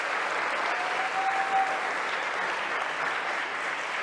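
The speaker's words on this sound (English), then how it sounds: "Let's give her a big hand of applause." Audience at a benefit gala applauds an awardee, a dense steady wash of many hands clapping throughout, moderately loud and without pause.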